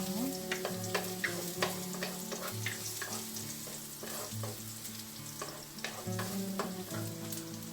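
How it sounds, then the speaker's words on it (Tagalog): Garlic sautéing in hot oil, a steady close sizzle and crackle with repeated scrapes and stirs of a utensil against the pan throughout, no talking. "saute natin yung ating garlic"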